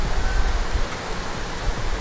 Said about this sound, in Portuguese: Ué, família, tá chovendo aqui na minha cidade,